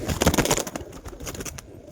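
Giribaz pigeons at home, including a white-eyed male, give soft close cooing calls in a short burst, with no talk.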